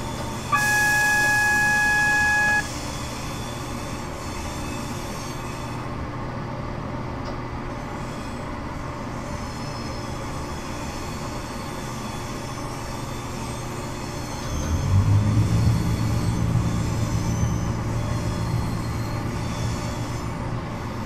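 A train in Train Simulator 2013 slowing down, with a steady rumble of rolling wagons, a brief horn tone at the start and a louder wheel rumble building near the end.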